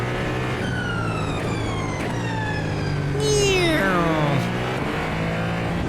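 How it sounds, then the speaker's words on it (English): In the iRacing simulator, a Ferrari 499P hybrid race car under braking gives a high electric whine sweeping downward in pitch over a steady engine drone, rising to a piercing rocket-like wail before falling away. "the electrical side of this car, when you're on the brakes, sounds like a rocket ship"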